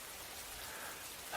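Steady soft rainfall, a fine continuous hiss of drops landing on a surface, even and unbroken throughout.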